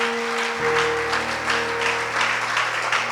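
Church congregation applauding in praise of the Lord during a sermon, a broad steady wash of clapping throughout with a sustained organ or keyboard tone underneath.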